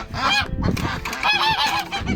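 Geese honk repeatedly at close range in a farmyard with chickens and ducks, a dense overlapping chorus of nasal calls with no talk.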